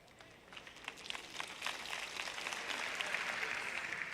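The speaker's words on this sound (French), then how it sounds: "C'était un applaudissement plutôt chétif." Faint, thin audience applause at a church sermon, starting softly and gradually building into a light, scattered patter of claps heard from a distance.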